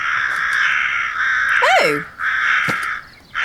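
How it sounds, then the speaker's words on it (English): Calling birds caw repeatedly, harsh crow-like calls that come loud and close in several bursts, with a brief startled voice exclaiming partway through. "Those are the calling birds again."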